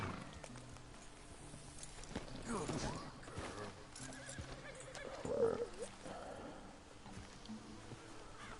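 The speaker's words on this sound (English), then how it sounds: "Let me hitch my horse here, so I don't get yelled at for having a horse in camp." In Red Dead Redemption 2, a horse being hitched at a camp gives a loud whinny midway, with hooves clopping and shuffling around it and soft talk in the background.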